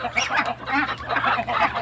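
Muscovy ducks and native chickens waiting to be fed, giving repeated loud honking, hoarse calls in a steady noisy chorus close by.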